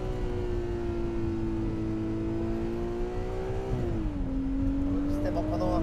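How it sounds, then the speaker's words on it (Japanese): Ferrari 296 GTB with its V6 engine on the move, exhaust note holding a steady drone before the pitch dips and climbs again, continuous and fairly loud. "どうしてもこの素晴らしいエキゾーストサウンド、まさにピッコロ V12 って呼ばれるだけのことはありますね。"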